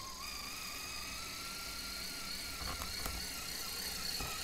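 Radio-controlled car's electric motor whirring under throttle, a thin steady whine at moderate distance with a few bumps and knocks near the end.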